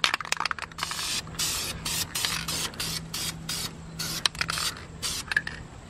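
A Honda Prelude brake caliper gets spray-painted in a series of close, loud hissing aerosol bursts, each about a third of a second long, separated by short pauses and faint can clicks.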